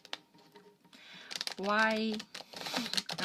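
Tarot cards are shuffled by hand in quick, soft, papery bursts close to the microphone, with someone speaking partway through.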